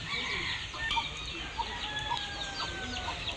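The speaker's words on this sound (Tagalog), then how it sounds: "Ito din po yung alagang manok po ni Mama." A mother's pet hen clucks softly in a backyard farm with other fowl, a steady scatter of short clucks and chirps over outdoor background noise.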